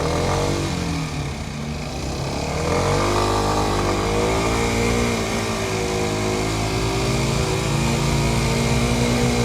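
A light motorcycle's engine hums steadily and loudly as it rides through a city roundabout, its pitch rising and falling slightly with throttle across the whole stretch, with no speech.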